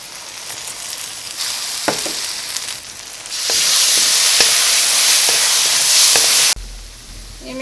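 Ground chili paste hits hot oil for an egg roast: a hissing sizzle that surges loud and steady for several seconds, broken by light clinks of stirring, then cuts off abruptly.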